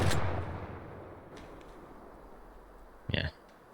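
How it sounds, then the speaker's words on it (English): A single loud rifle shot in Way of the Hunter, fired at a whitetail deer, cracks at the start and rolls off into a fading echo, followed by a quieter click and a brief thump later. "Might have to take this angled shot."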